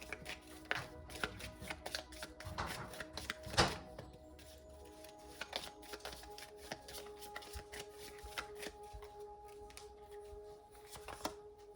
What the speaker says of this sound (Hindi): अरे सब कार्ड खुद ही गिर जाएंगे तो हम निकालेंगे कैसे कार्ड्स।